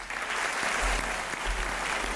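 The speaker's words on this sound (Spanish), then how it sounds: "El aplauso para Alberto Favero" Audience applause at the ACE awards ceremony, a sustained, even roar of clapping from a large hall, loud and steady throughout.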